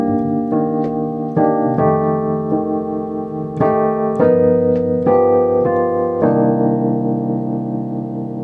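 Roland RD700sx EP1 electric piano patch played with a slow sequence of sustained chords and single notes, bell-like tones with a gentle tremolo wobble, loud and clean with no voices.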